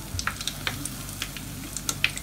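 Oil sizzles and crackles softly around frying coconut-banana dough pieces, with scattered light pops over a steady low hiss.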